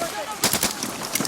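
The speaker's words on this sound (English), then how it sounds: "the enemy is targeted by machine guns and assault rifles, and then rocket launchers." Machine gun and assault rifle fire crackle in a combat firefight involving Royal Marines in Afghanistan, a rapid string of loud bursts over a constant noisy background.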